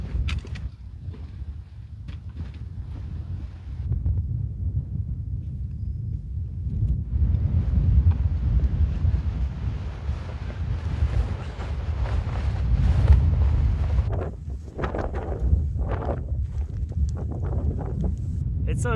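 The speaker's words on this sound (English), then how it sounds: "It's so incredibly windy up there in the summit." Strong, gusty wind buffets the microphone with a constant low roar that swells and eases, loudest in the middle and again near the end.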